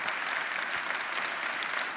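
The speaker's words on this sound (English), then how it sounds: "that's an applause line" Audience applause at a live talk with Kara Swisher, a brief but steady wash of clapping from a sizeable crowd, even in level and without talk over it.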